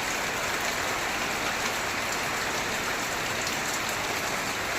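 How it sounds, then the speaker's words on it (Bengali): Heavy monsoon rain pouring down steadily, a dense, loud, unbroken hiss of water with no voices. "এখন আবার এরকম ঝমঝম করে নেমে যাচ্ছে"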